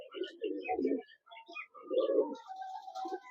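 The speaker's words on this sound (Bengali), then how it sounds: "এটা একটা নর পায়রা, ডাক দেখে আপনারা বুঝেই গেলেন।" A male Kaldoma pigeon coos in a loft, delivering two rolling, throaty coo phrases close up and loud, separated by short pauses, with a few softer notes trailing after.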